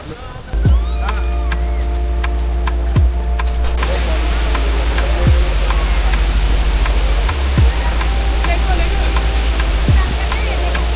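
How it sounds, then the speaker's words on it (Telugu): A steady, loud roar of the Chaparai waterfall fills the whole stretch, with people talking now and then over the rush. "ఈ వాటర్ ఫాల్స్ దగ్గర అయితే కొద్దిసేపు కూర్చొని లాస్ట్లో ఇంకా వెళ్ళిపోదాం అనిపించింది చింటూ"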